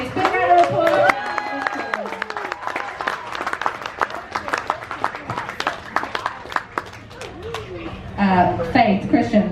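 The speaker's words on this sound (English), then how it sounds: "Big round of applause." An audience on a cruise ship gives a big round of applause for contestants, with steady clapping mixed with cheers and voices talking and calling out throughout.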